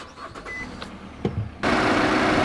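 A car engine cranks briefly with a few scattered mechanical clicks, then catches and settles into a steady, moderately loud idle that holds to the end.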